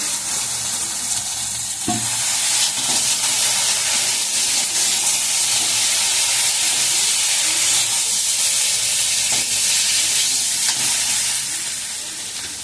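Morula fish hitting hot oil in a pan alongside eggplant, a loud, continuous sizzling hiss that swells right away and holds steady before easing off at the end.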